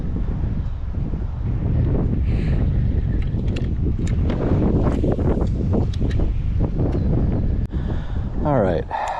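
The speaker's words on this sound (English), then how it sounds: "All right, I moved out of that wind" Wind gusting across open water in cold conditions near mangroves, a steady broadband rush and buffeting close to the microphone with sporadic clicks and knocks, and a brief scratchy rustle near the end.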